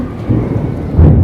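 Rumbling thunder during the first summer rain in Karachi, a loud, continuous low roar that swells near the end of the short stretch, with rain noise mixed in and no talking.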